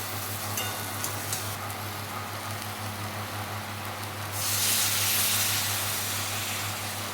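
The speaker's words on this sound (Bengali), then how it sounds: "জল দিয়ে দেবো।" Water poured into a hot pan of okra and potato curry sets off a sudden broad sizzling hiss that swells midway and holds steady over a low constant hum.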